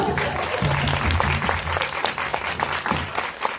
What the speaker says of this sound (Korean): 공감의 박수가 많이 나오네요.